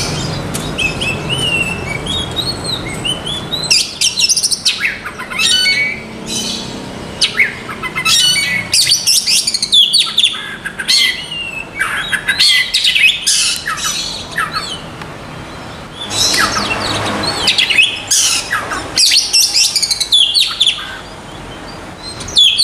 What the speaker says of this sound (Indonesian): ini adalah kacer gembel yang saya rawat kemarin